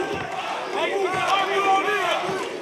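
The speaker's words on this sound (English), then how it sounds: "Partisan crowd shouting Abu here" A partisan crowd at an MMA fight chants and shouts the fighter's name Abu in rising, wavering voices, loud and sustained, with a commentator talking over it.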